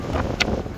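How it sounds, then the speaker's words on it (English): Strong, steady wind on a mountain summit in Glen Lyon, Scotland, buffets the microphone with a low roar and a brief gusty hiss, loud and close. "It is seriously windy, too windy to get my phone out without the protection of this cairn."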